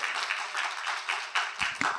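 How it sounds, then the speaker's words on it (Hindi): An audience at a public speaking class applauds with brisk, dense clapping that pulses in waves and sounds moderately close, with no voices over it. "जोरदार तालियां उनके लिए हो जाए एक बार"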